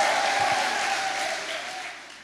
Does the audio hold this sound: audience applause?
yes